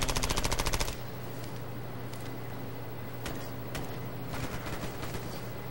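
Rapid bursts of automatic gunfire from a shooter video game, a fast machine-gun rattle up front followed by scattered single shots and short volleys over a steady game background hum.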